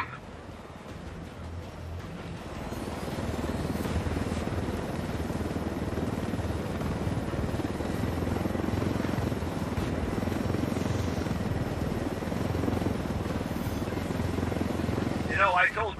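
A helicopter in Ghost Recon Wildlands flies with a steady, loud rotor and engine roar that holds throughout.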